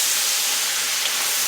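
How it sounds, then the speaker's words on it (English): Garden cabbage fries in a hot pan, giving a loud, continuous hiss and sizzle close to the microphone with no speech. "You want to make sure you fry it and, get that aroma all mixed together."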